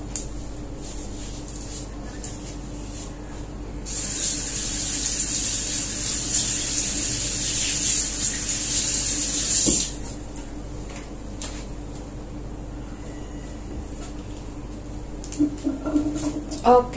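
A steady bright hiss of sweet potato frying in hot oil over low heat swells for several seconds, close and continuous, with faint clatter and a few soft voices around it.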